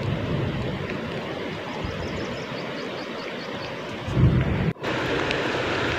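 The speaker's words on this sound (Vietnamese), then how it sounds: "Ôi, sấm chớp đùng đùng rồi." Thunder rumbles beside a forest stream during a fishing outing, a low continuous roll blending with the steady rush of flowing water, swelling briefly near the end before the constant stream noise resumes.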